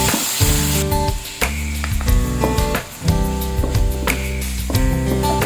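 Onion and garlic, followed by three medium tomatoes, sautéing in a pan with a steady loud sizzle and bursts of sharper crackle, close by and with no voices, while tonal music plays underneath.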